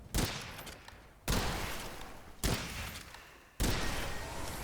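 Gun firing in Witchfire, four loud, sharp shots spaced about a second apart, each leaving a decaying tail.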